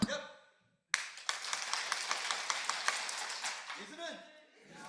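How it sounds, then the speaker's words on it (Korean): A church congregation at a Sunday worship service claps hands in rhythm, a bright, steady beat of many hands that swells after a pause and then tapers off as a voice comes in. "오늘 박수 한 번 더 쳐볼게요"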